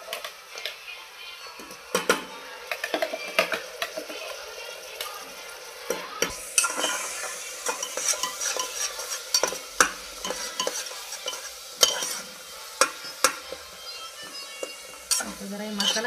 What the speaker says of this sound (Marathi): आता जरा हे मसाला शिजून घेऊया